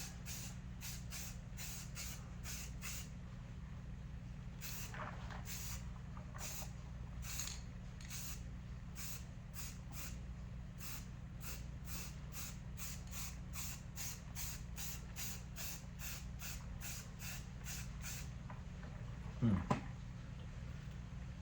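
Spray paint going on as a third coat over a surface in short rhythmic bursts, dozens of brief hissing sprays with small gaps between them, steady and close over a low constant background hum.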